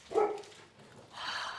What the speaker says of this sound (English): Did you hear the dogs? They said hi.